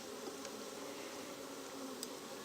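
Honey bees hum at an open hive during an inspection, a soft continuous buzzing drone at low level with a couple of faint higher passes from bees flying close by.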